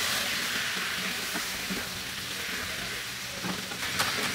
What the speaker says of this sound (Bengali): দিয়ে এখন আমার টমেটোটাকে সহ এটাকে একটু ভেজে নিতে হবে